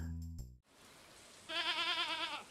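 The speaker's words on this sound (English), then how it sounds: "I need a goat" A goat in a farming video game lets out a single wavering bleat with a pulsing, trembling pitch. A short musical jingle plays first, then a stretch of low background hiss before the bleat.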